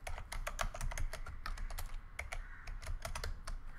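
Rapid, irregular keystrokes clatter on a computer keyboard while NumPy code is entered, a steady run of close, crisp clicks with brief pauses and no talking.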